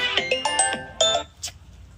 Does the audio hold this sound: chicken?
no